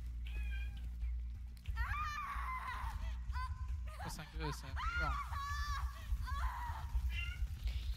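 A house cat meows repeatedly in short, rising calls that come close and clear while a person talks over and between them.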